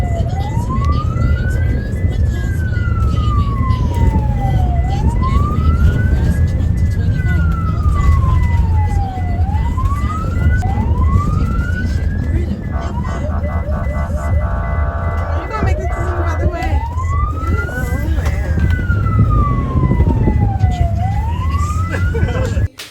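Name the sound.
emergency vehicle siren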